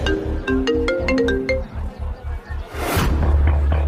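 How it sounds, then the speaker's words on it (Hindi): A melodic phone ringtone plays a short run of bright electronic notes, then a burst of noise and a low rumble cuts in. "फोन फिर बजा"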